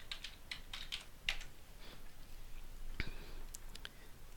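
Quiet, close typing on a computer keyboard, with irregular soft key clicks and taps spread over a few seconds and no talk.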